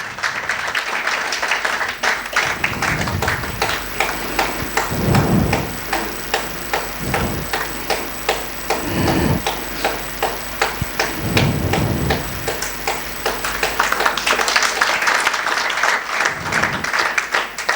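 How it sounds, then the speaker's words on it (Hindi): Loud, dense audience applause for Simran fills a meditation-tour gathering in Kullu Manali, sustained clapping from many hands running the whole time with no pauses. "जोरदार तालियां सिमरन के लिए।"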